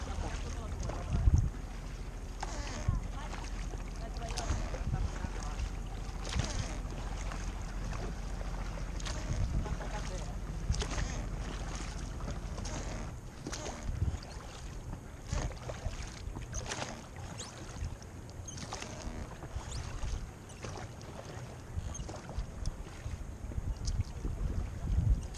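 A boat passes on open water near small coves, a low rumbling engine drone under wind buffeting and lapping water, fairly faint and continuous with scattered gusts.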